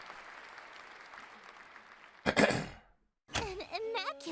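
Applause in the Sucker for Love video game follows a quiet stretch, with a short burst of clapping and cheering, then a pause before a voice and musical tones come in.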